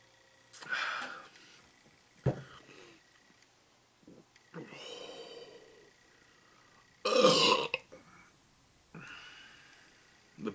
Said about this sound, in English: The burp is awesome too.